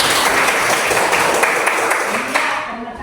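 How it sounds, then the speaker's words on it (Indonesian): A classroom of students applauds on cue from their teacher, a dense, steady wash of clapping for about two and a half seconds that tapers off at the end, with voices mixed in. "Iya, tepuk tangan dulu."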